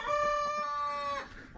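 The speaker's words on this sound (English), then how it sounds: "Trying to do a little cock-a-doodle-doo in the background." A young rooster crows once, a short, thin cock-a-doodle-doo lasting just over a second that breaks off abruptly, fairly close and clear with no talking.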